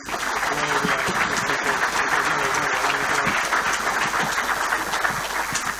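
Dense, sustained audience applause filling a hall at an athletics awards gala honouring the 2018 athletes of the year, steady and loud from start to finish.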